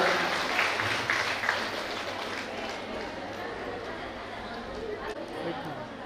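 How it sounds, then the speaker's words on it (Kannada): An audience claps loudly to honour a revered religious figure at a public function, a dense wash of applause that starts strong and slowly thins while chatter from the crowd mixes in. "ಜೋರಾದ ಚಪ್ಪಾಳೆಯ ಮೂಲಕ ಶ್ರೀಗಳಿಗೆ ವಂದನೆಗಳನ್ನು ಸಲ್ಲಿಸೋಣ."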